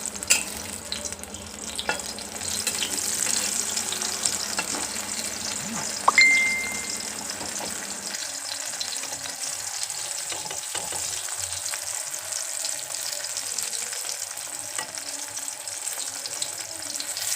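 Ground seed paste frying in mustard oil until deep red and crisp gives a steady soft sizzle with faint utensil clinks and a brief metallic ring, quieting somewhat midway.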